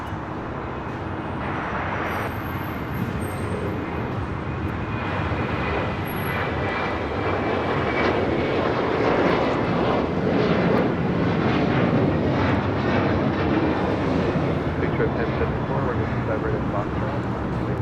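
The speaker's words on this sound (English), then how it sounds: "Here we have Alaska Airlines 703 coming in from Las Vegas on a 737-900ER." An Alaska Airlines Boeing 737-900ER arriving at LAX from Las Vegas, with a steady, loud engine roar held for the full length, wind and other background hum mixed in.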